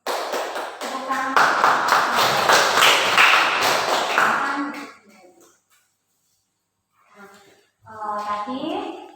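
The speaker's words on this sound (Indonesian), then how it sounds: "Tepuk tangan" Classroom of students applauding together for about five seconds, brisk, fairly close clapping that stops abruptly, then a near-silent pause followed by a teacher's voice.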